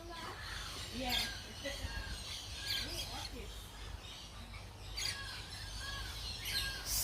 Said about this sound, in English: Oh, the laughing bird?